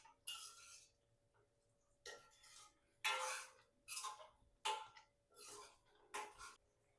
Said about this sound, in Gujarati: પનીરને આપણે મિક્સ કરી લઈશું.